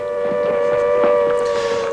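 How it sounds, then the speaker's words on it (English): A civil defence siren sounds a steady, loud, sustained wailing tone warning of nuclear attack, holding one pitch throughout with a faint rumble beneath and no talking. "if the sirens warned of nuclear attack"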